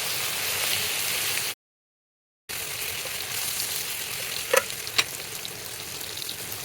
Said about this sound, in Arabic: نديها تقليبة حلوة